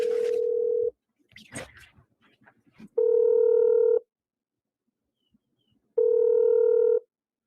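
A telephone ringback tone sounds on an outgoing call, two clear one-second rings separated by silence, after an opening tone and a few brief clicks and rustles.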